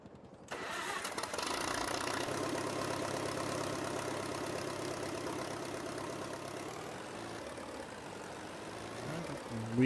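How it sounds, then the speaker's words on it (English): A second tractor's engine runs steadily in the background on a farm near a brand new International 340 utility tractor, a continuous rumbling drone that holds for the whole stretch, with a louder knock right at the end. "Hear Jess's tractor in the background going there."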